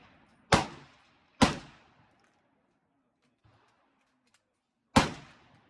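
Three loud, sharp gunshots from an AR-15 pistol chambered in 300 Blackout, fired outdoors. The first two come close together and the third follows after a pause, each with a short decaying echo.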